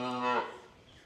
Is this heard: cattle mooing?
yes